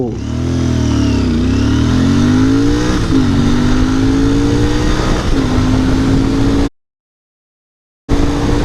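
A Royal Enfield Bear 650 scrambler motorcycle engine roars close by as it accelerates hard from zero to hundred, its pitch climbing and dropping through several gear shifts before cutting to sudden silence and returning.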